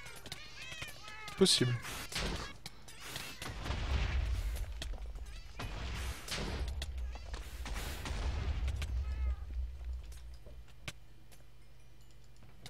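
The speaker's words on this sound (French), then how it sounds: "Oh, ceux qui aiment bien les chats." Cats meow in a modded Minecraft game over steady game noise and bursts of combat sounds, with someone talking throughout.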